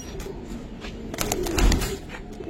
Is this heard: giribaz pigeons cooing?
yes